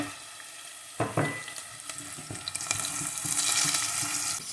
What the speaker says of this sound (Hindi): पिसी हुई राई डालने के बाद हमने इसको थोड़ा सा फ्राई किया।